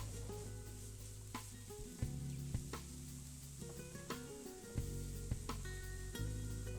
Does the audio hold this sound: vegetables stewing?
yes